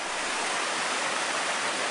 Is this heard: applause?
no